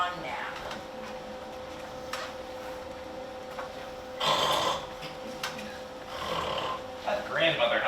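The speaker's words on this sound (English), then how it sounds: "That grandmother has a mighty snore." A grandmother's mighty snore from a stage performance of Into the Woods Jr., heard as a few loud, raspy bursts over a steady background hum.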